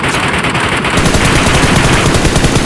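Sustained automatic gunfire in the mobile shooter PUBG Metro Royale, a loud, dense rapid-fire burst running continuously through the clip with no talk over it.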